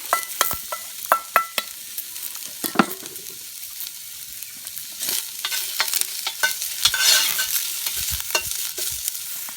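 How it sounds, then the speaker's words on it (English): Onions and garlic brown in a camp oven, with sharp metallic scrapes and clanks of stirring over a soft sizzle, the sizzle growing louder in the second half. "While the onions are browning off"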